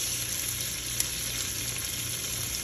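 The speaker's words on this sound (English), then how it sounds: "I'm going to add in just a little bit of oil to enable me to fry my rice." Rice frying in a little oil in a pot, a steady close sizzle that stays even and continuous throughout, with one faint clink partway through.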